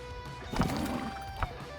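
A horse whinnies and hooves clatter in the Mount & Blade II: Bannerlord video game, with a loud neigh early and a second sharp burst near the end, set against a steady background game ambience.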